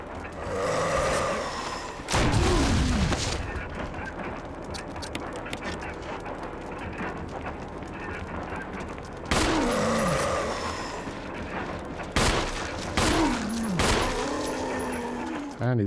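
Grenade launcher blasts in Resident Evil HD Remaster, two heavy booming shots around a few seconds apart with ringing decay, set against game music, ambient rumble and clanking mechanical effects.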